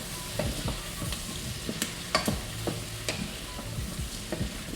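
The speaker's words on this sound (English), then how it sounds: "For it to start frying up." Breaded chicken katsu fries in oil in a pot, a steady dense sizzle and bubbling crackle with occasional sharp clicks and scrapes of a utensil stirring, close and continuous without speech.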